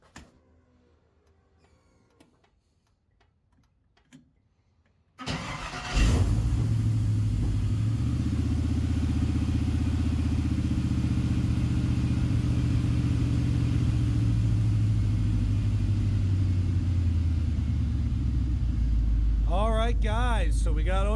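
LS V8 engine swapped into an FJ40 Land Cruiser cranks and fires abruptly after some quiet ticking, then settles into a loud, steady, rumbling idle; a voice briefly speaks near the end.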